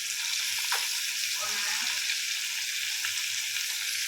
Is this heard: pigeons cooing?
no